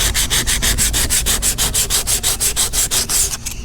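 Folded sandpaper is rubbed by hand over a custom fiberglass door panel for a 1974 Chevy Caprice, making a steady rhythmic scratching of about fifteen quick back-and-forth strokes, close and loud, with no talk.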